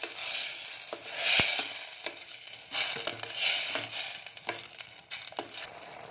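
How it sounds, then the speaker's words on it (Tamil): Brinjal (eggplant) sautéing in a pan while a spoon stirs it, with soft sizzling under repeated scraping strokes and clinks, close and uneven in rhythm. "இப்போ நல்லா வதங்கிடுச்சு கத்திரிக்காயில்"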